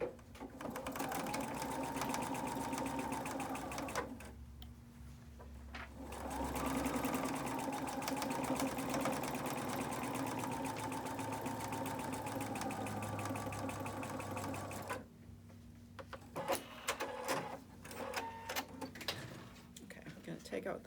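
Sewing machine stitching along both sides of a marked line on a quilt block, steady continuous whirring in two long runs separated by a short pause, with faint background sounds.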